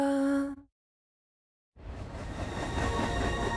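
A brief tonal burst cuts to silence, then a steady rumbling train passes with continuous clattering noise building in loudness.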